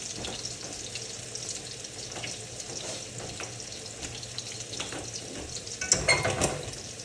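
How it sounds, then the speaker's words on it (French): Pork chops fry in a pan with a steady close sizzle and crackle, and a brief clatter of a fork or utensil toward the end. "Et on va faire rôtir des deux côtés"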